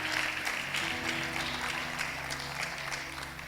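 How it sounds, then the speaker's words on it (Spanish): A church congregation applauds throughout, a steady, dense wash of clapping that holds evenly for the whole stretch, with faint tonal sound underneath. "¿Le puedes dar un aplauso a la palabra del Señor,"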